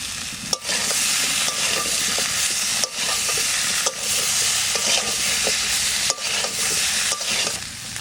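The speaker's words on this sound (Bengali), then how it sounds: "মশলা ভালো করে কষানো হয়ে গেছে" Ground cumin, coriander and chilli paste fry for a catfish curry, making a loud, steady hiss of hot oil broken by a few sharp spatula knocks on the pan.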